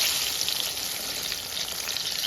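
Papaya fritters deep-frying in hot oil give off a loud, steady, close sizzling hiss that holds evenly throughout, with no voices.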